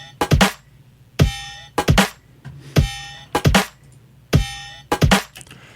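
A simple unlayered drum loop in Ableton with one kick, one snare and a second snare, repeating a steady groove of punchy hits with sharp snare cracks and short tails. Dry and upfront, nothing else playing.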